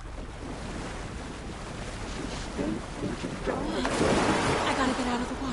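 Water sloshing and churning around a character wading through it in the game Alan Wake 2, a continuous rushing wash that swells louder toward the end, with wind-like noise mixed in.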